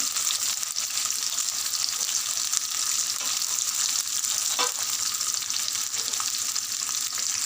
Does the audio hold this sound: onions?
yes